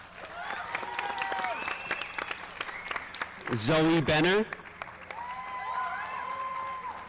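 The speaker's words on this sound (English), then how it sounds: "So round of applause, please," An audience at a school board meeting claps steadily and then swells into a louder burst of applause with some cheering, while a presenter speaks over it through a microphone.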